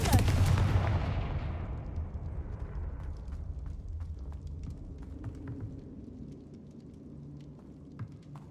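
Confringo blasting spells explode in Hogwarts Legacy, a loud booming burst at the start that rolls away into a long rumbling decay with faint crackling debris afterward.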